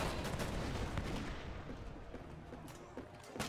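Cannon fire from a sailing ship in the pirate action RPG Tempest as a battleship is sunk, dense booming blasts and rumbling impacts in continuous succession, loud and close.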